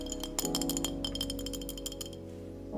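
A glass water bottle handled at close range, giving a run of light, bright clinks and taps spread across a few seconds over a steady low background hum, with no talking.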